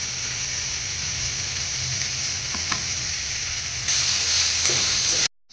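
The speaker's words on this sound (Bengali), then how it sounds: "আমাদের পেঁয়াজ রসুন লঙ্কা ভালো করে ভাজা হয়ে গেছে।" Onion, garlic and chopped green chili fry together in a pan as a steady, close sizzle with occasional stirring scrapes, growing slightly louder near the end before cutting off abruptly.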